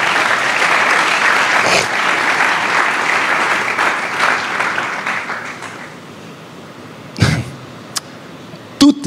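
Congregation applauding during a French-language sermon, loud sustained clapping that tapers off after several seconds, followed by a few isolated claps and bumps.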